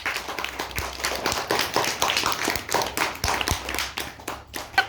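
A classroom of young children claps in a quick, uneven burst of hand claps that runs steadily and close by, with scattered sharp slaps standing out from the crowd of small hands.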